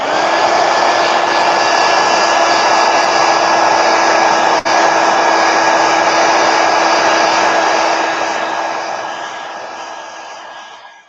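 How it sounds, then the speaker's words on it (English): A heat gun blows over a watercolor painting with a loud, steady, close whirring hiss and a constant pitched hum that runs unbroken for about ten seconds, then tapers off at the end. "Heat gun, and then I'm going to do the whole background."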